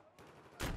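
Two quick gunshots fired at an LAV armored vehicle in a tactical team shooter game, faint and distant, the second burst louder than the first.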